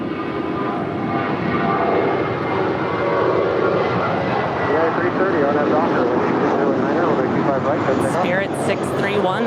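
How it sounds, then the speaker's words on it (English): A 12-year-old Spirit Airlines Airbus A320 departs LAX from runway 25 right, bound for Atlanta, its engines producing a steady, loud, close roar that fills the whole stretch, with faint voices in the background. "Spirit 631 off to Atlanta. It's a 12-year-old A320."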